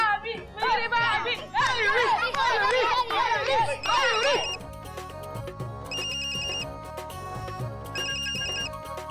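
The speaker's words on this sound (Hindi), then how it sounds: "कोयल तेरी मम्मी का फोन है, तू अपना फोन उठाने नहीं लगता है।" A telephone ringtone plays a bright, looping electronic melody with repeated chiming phrases, loud throughout, heard under overlapping voices talking in a domestic scene from the Indian TV series Chidiyaghar.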